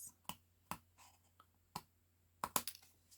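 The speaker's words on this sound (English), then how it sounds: "give it a snip, lining the edge of our scissors up against the card base" Scissors snip through a papercraft card base in a quiet room, giving a few sharp, close cuts spaced irregularly, with a quick cluster of snips near the end.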